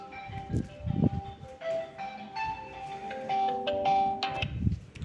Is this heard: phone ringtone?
yes